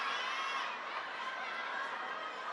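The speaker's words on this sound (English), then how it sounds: "you've got the crowd behind them as well." An arena crowd at the ITTF World Cup table tennis semifinals in Macao cheers for Lin Shidong, a steady, diffuse roar of many voices holding at an even level throughout.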